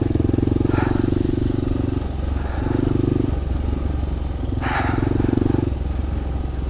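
Motorcycle on a rough, washed-out dirt trail along Cabezon Road, the engine droning loudly close by and shifting pitch as the rider throttles, with rattles and wind buffeting over it.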